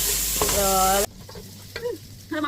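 Chopped onions sautéing in a hot pan for goli idli give a loud, dense sizzle for about a second, then drop to a quieter crackle with occasional scrapes of stirring.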